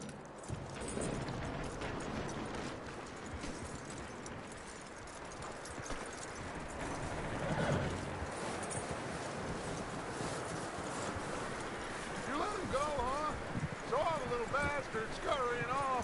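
Horse hooves clip-clop steadily at a walking pace in Red Dead Redemption 2, mixed with talk and background game ambience; a few whinny-like tones rise near the end.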